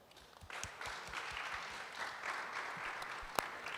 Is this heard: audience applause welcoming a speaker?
yes